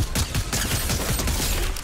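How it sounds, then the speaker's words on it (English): Rapid gunfire in the video game Fortnite, a dense, loud burst of overlapping shots lasting under two seconds with no pauses. "I almost got sniped."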